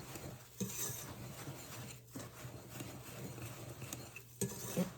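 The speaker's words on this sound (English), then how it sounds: "You just want to mix that up." Dough being stirred with rolled or quick oats for oatmeal raisin cookies, with soft, quiet scraping and mixing in a bowl, steady and close, broken by a few faint utensil knocks.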